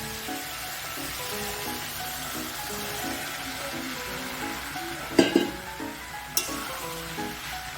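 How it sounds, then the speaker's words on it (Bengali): Boiled peas and potatoes sizzle steadily in fried spice masala for vegetarian ghugni, with a constant frying hiss and a few sharper clatters of stirring near the end. "এতে আমি সেদ্ধ করে রাখা মটর ও আলুগুলো দিয়ে দিব।"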